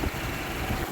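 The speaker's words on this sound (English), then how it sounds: "Engine running." A rebuilt Subaru Legacy 2.5 engine idles steadily up close, giving a low, even rumble with small pulsing fluctuations and no voices.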